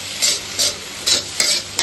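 Chow mein noodles tossed with vegetables in a hot pan, giving a few quick scraping, sizzling stir strokes in an uneven rhythm, close and fairly loud with no voices.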